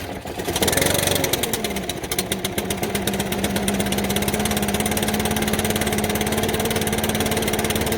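Stihl BR-600 backpack blower engine, freshly rebuilt with a replacement short block, fires up and settles into a steady, loud two-stroke idle with a rapid even pulse, running alone for several seconds.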